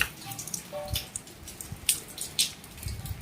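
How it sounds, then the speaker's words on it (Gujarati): Rain falls outside during the monsoon, heard as irregular close drips and splats of drops hitting a surface over a low background, with no talking. "જો આમાં દેખાય આમ વરહે"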